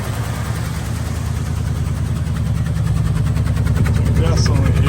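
A 1978 Ford Bronco engine, running on old gas, idles roughly with a steady low throb that grows slightly louder, with a faint uneven texture and no speech over it.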